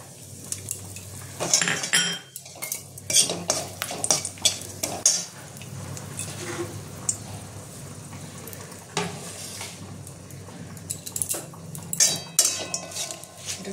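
Metal utensils clink and scrape against a wok in quick, irregular strikes over a soft, steady sizzle of bay leaf and dried chilli frying in oil, close up and without talk.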